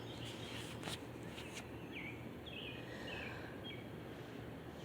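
Several short bird calls and chirps drift in a small forest, thin and fairly distant, over a steady low background hum.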